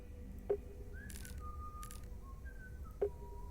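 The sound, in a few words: whistling in a video game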